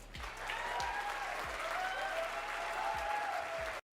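An audience claps at a political speech, a dense, sustained burst of applause that holds steady for several seconds before cutting off abruptly.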